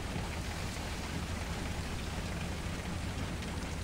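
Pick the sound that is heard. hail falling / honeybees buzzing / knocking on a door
hail falling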